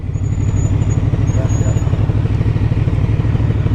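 A QJ SRV 600 motorcycle engine rumbles steadily and loudly up close, a throaty low drone holding for several seconds with faint voices mixed in.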